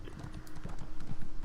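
Horse hooves gallop in the video game Elder Scrolls Online, a steady, fast clip-clop rhythm of repeated thuds that stays close and grows slightly louder across the short stretch.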